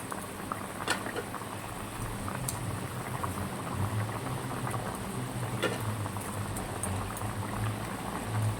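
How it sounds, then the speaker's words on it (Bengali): Curry broth with potatoes bubbling in a pot, a steady soft low simmer with faint popping bubbles throughout, quiet and close, no talking. "ঝোলটা ভালোভাবে ফুটে গেছে, আলুগুলোও সিদ্ধ হয়ে গেছে"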